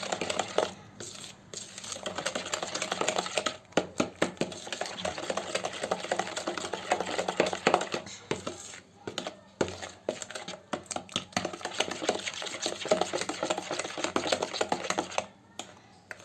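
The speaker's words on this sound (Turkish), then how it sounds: "iyice bir karıştıralım." A spoon scrapes and clinks steadily against a bowl while five tablespoons of sugar are stirred into a dessert mixture, giving a close, busy run of rapid clicks and gritty rasping that carries on without pause for the whole stretch, with no talking.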